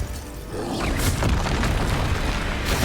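Repulsor, a force spell, is cast in Hogwarts Legacy amid a troll battle: a quiet lead-in gives way at half a second to a sustained booming whoosh that holds loud and rumbling to the end.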